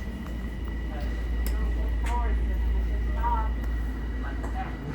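Steady low rumble and rhythmic clatter inside a moving passenger train, a constant droning hum with occasional squeaks and tonal whines, while people talk nearby.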